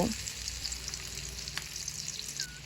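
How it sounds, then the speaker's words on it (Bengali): An onion and egg mixture drops into hot oil and fries with a steady, close crackling sizzle throughout. "তেলটা ভালো করে গরম করে নিয়েছি তো এবার কিছুটা পেঁয়াজের মিশ্রণ নিয়ে ঠিক এইভাবে করে আমি দিয়ে নেব"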